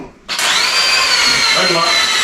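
An impact wrench bites into rusted bolts on an 18-year-old deer stand soaked with penetrating oil, starting abruptly after a brief quiet moment and then whirring loud and continuously at close range.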